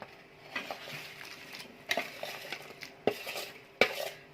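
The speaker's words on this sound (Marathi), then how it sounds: "म्हणजे गूळ वितळला जाईल सारखं हलवत राहायचं" Spoon stirring jaggery into semolina in a pot for a thin jaggery shira, with repeated scraping and clinks of metal against the pot and a soft sizzle between strokes, close and fairly loud.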